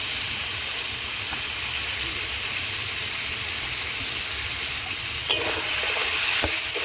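Pointed gourd and prawn masala being sautéed in a pan sizzles steadily and close throughout, with a few scraping stirs toward the end.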